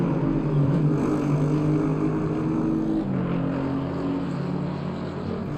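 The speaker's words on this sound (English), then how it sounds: "Just listen to these cars going up the hill." GT3 race cars in Assetto Corsa Competizione climb a hill, their engines a loud, steady, continuous drone with a shift in pitch partway through.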